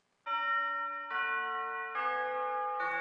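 Westminster Abbey chime melody opening a song recorded at Abbey Road Studios in 1976, imitating a doorbell: four clear bell-like tones ring in sequence, bright and sustained, alone with no talking.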